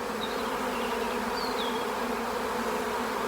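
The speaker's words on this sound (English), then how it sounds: "Nice bees." Honeybees hum in a dense, continuous buzz close by at an open hive with capped brood during a move into a new box, a steady drone with no voices.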